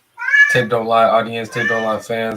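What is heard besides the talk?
cat meowing in the background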